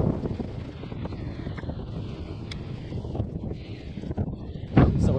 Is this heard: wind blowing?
yes